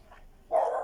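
A dog barks once, a short, muffled, mid-distance woof in an otherwise quiet room.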